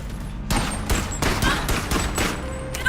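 Repeated gunshots from a VR treadmill video game, a burst of several sharp cracks in quick uneven succession, loud and close, with no talking.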